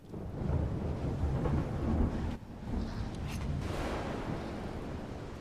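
Thunderstorm in the survival video game Smalland: a continuous loud low rumble of thunder and rain, with a brief dip and a renewed roll of thunder partway through, no speech.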